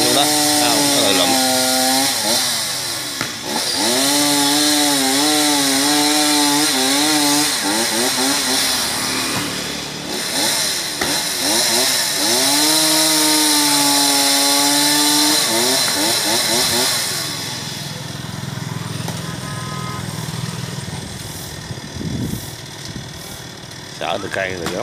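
A chainsaw cuts a mango tree beneath power lines, its engine revving and bogging in long loud sustained passes with a rising and falling whine, then easing toward idle near the end.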